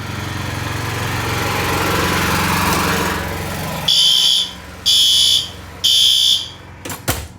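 A loud, high electronic fire alarm sounds during a systems test in three separate pulsed bursts after a stretch of rumbling mechanical noise, followed by a few sharp clicks.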